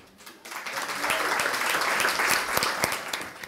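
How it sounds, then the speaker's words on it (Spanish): A studio audience bursts into applause for a guest on a Spanish-language show, the clapping rising quickly and staying dense for about three seconds with a few sharp individual claps. "yo les pido un, fuerte aplauso"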